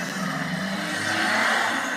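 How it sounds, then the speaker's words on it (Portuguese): Cars and motorcycles passing on a street, giving a continuous loud rushing engine and tire noise that peaks midway as vehicles go by close, with no voices. "tá passando um monte de carro e moto aqui"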